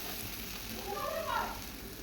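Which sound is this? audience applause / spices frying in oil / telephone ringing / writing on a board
spices frying in oil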